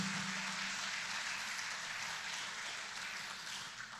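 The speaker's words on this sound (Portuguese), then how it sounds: "Vamos dar uma salva de palmas para o nosso Senhor Jesus." Steady applause from a crowd, a continuous wash of clapping that holds at an even level throughout, with no voices on top.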